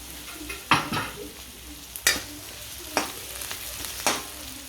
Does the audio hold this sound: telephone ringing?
no